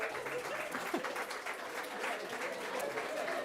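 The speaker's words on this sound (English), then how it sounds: "Do not clap that." Audience clapping at a journalism and PR awards ceremony, a steady wash of applause from a seated crowd, moderate and even across a few seconds, with faint voices mixed underneath.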